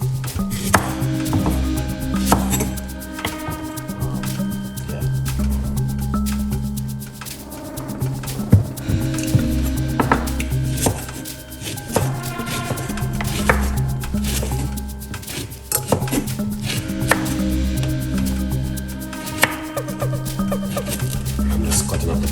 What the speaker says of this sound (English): I'm just cutting up the banana.